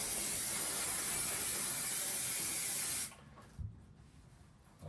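A close, steady hiss of water inhibitor spray under a Duplex 420/340 steam cleaning machine for about three seconds, then it stops, leaving quiet room noise and a soft thump.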